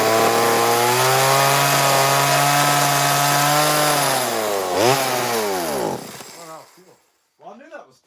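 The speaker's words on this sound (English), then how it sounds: "I figured do the chainsaw carving." A chainsaw revs and bites steadily into wood during a carving session in a carving shanty, loud and close for several seconds, then winds down and idles off as the engine sputters out near the end.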